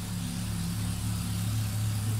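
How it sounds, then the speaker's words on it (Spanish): Motorcycles passing on the street produce a steady, loud engine drone that swells slightly as the traffic rolls by, with no voices over it. "Disculpen el ruido, chicas, pero aquí pasan muchas motos."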